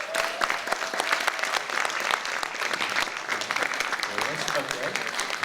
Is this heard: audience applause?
yes